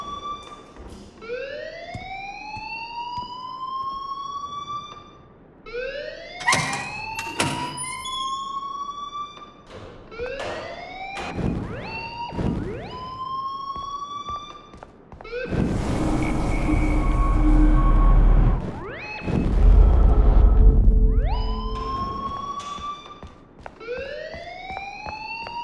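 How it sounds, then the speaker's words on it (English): A fire alarm in the video game Life is Strange wails in repeated rising sweeps, loud and insistent, with stretches of harsher noise and buzzing between the cycles, no talk. "please turn off that alarm since that's your job"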